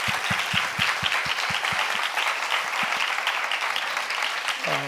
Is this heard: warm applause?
yes